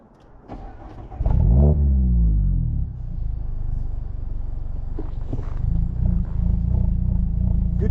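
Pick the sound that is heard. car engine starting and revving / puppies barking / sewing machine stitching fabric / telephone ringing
car engine starting and revving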